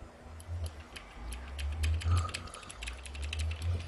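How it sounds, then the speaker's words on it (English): A loud computer keyboard clatters with rapid, irregular key clicks in close bursts over a low background hum during a Minecraft-style game session. "My keyboard is, like, super loud."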